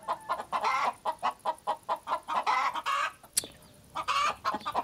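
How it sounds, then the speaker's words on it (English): Chickens clucking loudly nearby at an outdoor site where a Trabant is being built, a rapid series of sharp, rhythmic clucks and squawks with one brief pause, no voices. "There's a chicken. It's being loud."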